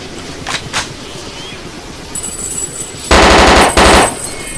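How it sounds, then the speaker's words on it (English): Machine gun fire in the DayZ video game mod Overpoch, a few faint distant bursts followed by two loud, close sustained bursts of rapid automatic fire. "Put a whole clip into those guys."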